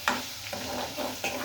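Garlic paste is stirred into a hot chutney tempering, giving a steady sizzle broken by a few distinct scraping stir strokes close by.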